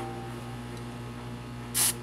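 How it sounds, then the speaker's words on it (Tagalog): Lanrui V9 fault detector freeze spray hisses onto a circuit board in one short, loud burst near the end, over a steady low electrical hum. "so try natin dito kung anong itsura niya pag in-spray natin sa board."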